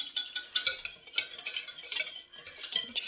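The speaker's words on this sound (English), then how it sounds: "we're just going to give this a mix together with the whisk" A vegan, gluten-free custard mixture is whisked in a bowl: quick, rhythmic metal strokes rasping and tapping against the sides, close and alone.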